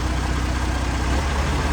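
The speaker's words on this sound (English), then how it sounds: "for a little engine that sounds proper punchy" A little engine idles in a steady, dense rumble, loud and close, with no talk over it.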